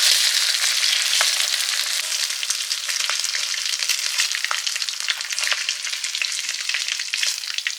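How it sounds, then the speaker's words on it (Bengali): Large tiger prawns fry in a pan, giving a loud, dense hiss of hot oil with frequent sharp pops and spits throughout, close up and continuous, no voices. "চিংড়ি ভাজা হয়ে গেল"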